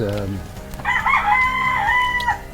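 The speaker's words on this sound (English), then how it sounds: "cock-a-doodle-doo." A rooster crows once in the Philippine countryside, a loud, drawn-out call rising and holding, close by, following a brief low voice at the start.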